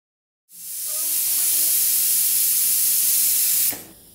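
Steam hisses loudly and steadily from a pot of chickpeas boiling in salted water. The sound is a broad, continuous rush that starts abruptly, holds for about three seconds and then cuts off sharply. No one speaks.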